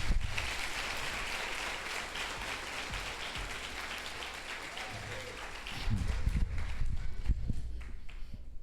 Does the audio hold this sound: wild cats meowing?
no